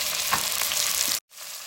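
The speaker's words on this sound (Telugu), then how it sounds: "ఇప్పుడు ఈ తరిగి పెట్టుకున్న టొమాటో ముక్కలు కూడా దీంట్లో వేసుకుంటాం." Chopped tomatoes drop into a pan already frying mint and coriander, giving a loud steady sizzle with a few stirring scrapes, then a sudden brief cutoff before a quieter sizzle resumes.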